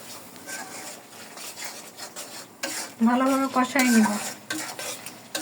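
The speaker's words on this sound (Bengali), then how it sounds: "ভালোভাবে নেড়ে ভাজা ভাজা করে নিব।" A utensil scrapes and stirs biryani spices frying in a sizzling pan, with a brief higher squeak partway through.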